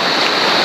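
A river stream rushing over rocks at a riverside campsite, a loud, steady, close broadband wash of flowing water with no voices.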